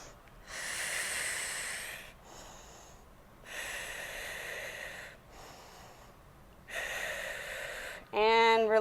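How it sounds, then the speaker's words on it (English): Slow deep breaths in an exercise class, three long airy exhales with pauses between, close to the microphone, followed by a brief voiced sound at the end. "We're just going to breathe."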